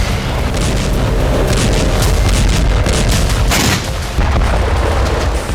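Heavy explosions in a war zone rumble as a dense, continuous roar of booms and blasts, loud and close, with a sharper burst partway through.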